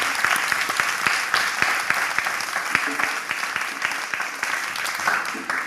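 A church congregation at a French-speaking service applauds the Lord for their pastor's life, with dense, steady clapping that fills the room and continues for several seconds alongside some voices.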